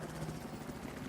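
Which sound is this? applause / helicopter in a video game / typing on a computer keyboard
helicopter in a video game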